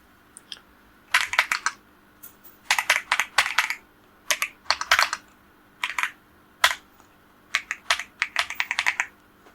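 Typing on a computer keyboard while writing a JavaScript program for summing array elements, heard as bursts of quick, close, crisp key clatter separated by short pauses. No one speaks.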